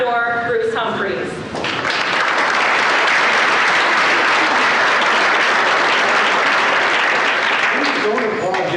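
An audience at an Eagan Funfest ambassador coronation breaks into loud, sustained applause just after a speaker at the start finishes an introduction; the clapping fills the room until the end.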